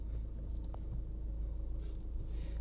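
Mahindra Scorpio S11 2021 SUV engine idling just after starting, a steady low rumble close by with no voices over it.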